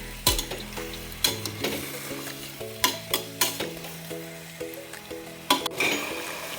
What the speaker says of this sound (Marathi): आपल्या भाज्या इथे व्यवस्थित मसाल्यासोबत परतल्या गेल्या आहे आता आपल्याला हे अजून पाच ते दहा मिनिट असेच परतवून घ्यायचे आहे